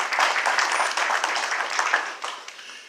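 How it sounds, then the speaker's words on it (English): A debate audience gives a short round of applause, scattered hand claps from a modest crowd rising and fading over a few seconds. "Let's give them a round of applause for hosting this event."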